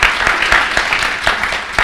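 Audience applause at a church sermon: steady, dense clapping from a crowd, fairly loud and sustained with a few sharper claps standing out, no talk over it.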